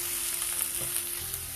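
Onions sautéing in a pan for a Mughlai mushroom malai curry, a steady close sizzle and crackle of frying with no voices.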